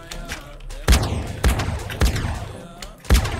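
M4 rifle fire in GTA, four or five loud, sharp single shots spaced roughly half a second apart, each with a booming low thump and a short ringing tail.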